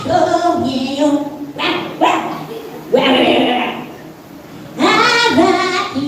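Children imitating a dog's barking with bursts of woof and yip sounds, several voices together in a lively group, loud and close, during a year-end children's group program.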